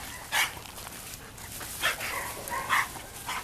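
A big dog named Andre barks during off-leash recall training, four or five deep, loud woofs spaced unevenly over a low outdoor background, with no talking.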